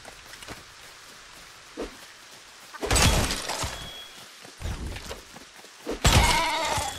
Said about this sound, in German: jetzt werden die Schafe wieder gerippt